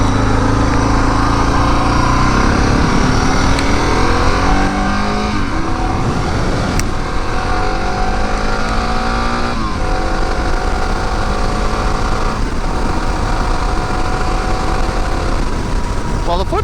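A dual-sport motorcycle, either a Honda XR650 or a Suzuki DR650, is ridden with its single-cylinder engine loud and close, revving through gears in rising pitch sweeps over a continuous rumble.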